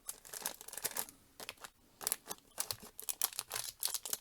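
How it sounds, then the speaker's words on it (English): Paper crinkled up by hand during a crafting session with sprayed inks, a series of quiet, close crackling bursts with short pauses between them. "you can crinkle up your paper so it gives you, those lines"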